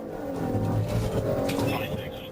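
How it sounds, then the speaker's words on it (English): A car accelerating hard down a highway during a police chase, its engine droning loud and rising in pitch under road roar, with a voice talking over it. "She stomped on the gas and blasted down the highway"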